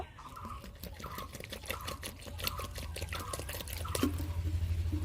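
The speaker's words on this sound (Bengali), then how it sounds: "এবারে দিয়ে দেবো জল আপনারা এই জলই ব্যবহার করবেন গরম জল দেওয়ার কোনো দরকার হবে না আমি ঠান্ডা জল দিয়ে গুলে নেব" Cold water poured into flour for Bengali papad batter, a steady close trickle with small regular drips and splashes, quiet and continuous with no voices.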